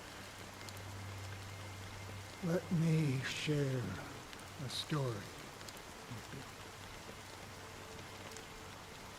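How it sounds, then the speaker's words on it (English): A fine drizzle of black rain in Honkai Star Rail falls as a soft, constant hiss behind a narrating voice for the whole stretch. "Amidst in the fine drizzle of black rain"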